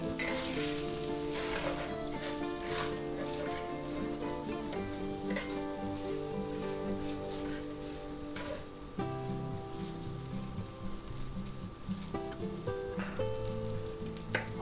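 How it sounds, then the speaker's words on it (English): Shrimp and roasted pork fry for fried rice in a pan, giving a soft, continuous sizzle with scattered light pops and occasional stirring, heard faintly under tonal music. "just keep stirring them around and fry them up till you start seeing them jumping a little bit"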